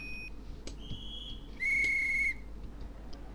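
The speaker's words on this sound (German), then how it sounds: "Schaffner hat gepfiffen" A train conductor's shrill whistle blast in Train Simulator 2019 on the Mittenwald to Garmisch-Partenkirchen regional service, preceded by a shorter softer tone, then one loud, clear sustained blast at a station over quiet ambient hum.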